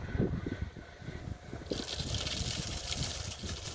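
Water gushing out of the sand trap of an irrigation pivot, a faint steady rush that swells into a broader hiss halfway through, with no voices.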